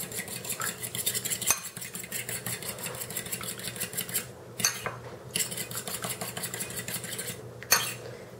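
A beaten egg being whisked in a bowl with a utensil, a steady fast scraping and clinking rhythm against the bowl that runs almost without a break and pauses briefly twice.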